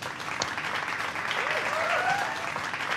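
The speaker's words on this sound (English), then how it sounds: "Please give a very warm round of applause for our guests" A studio audience applauds the guests at the close of a talk-show appearance, a steady wash of clapping held at an even level for the whole stretch, with a voice briefly heard over it.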